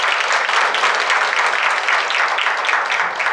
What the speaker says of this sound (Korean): 자, 한 박수 보내드리겠습니다.